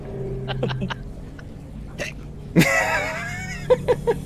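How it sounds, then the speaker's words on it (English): A character hiccups in the fighting game Mortal Kombat: Deception, several short sharp hiccups spaced apart and then a quick run of three near the end, with other game sounds and a voice between them. "He has the hiccups."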